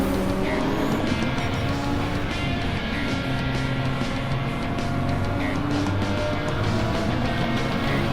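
A Toyota GR Supra race car in a racing game roars with a steady, loud engine drone throughout, with gear-shift pitch changes and no talk over it.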